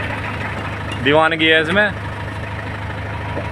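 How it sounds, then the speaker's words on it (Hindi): An old Eicher tractor engine idles with a steady, low, even hum that runs through the whole stretch, while someone talks briefly over it. "ट्रैक्टर की आवाज में एक अलग ही"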